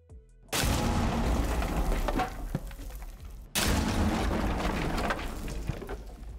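Explosions in the video game Rainbow Six during a Vulkan benchmark run: two long, loud rumbling blasts, each starting abruptly and filling the mix with dense booming noise, split by a brief gap.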